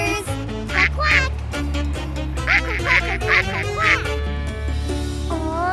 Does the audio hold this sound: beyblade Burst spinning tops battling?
no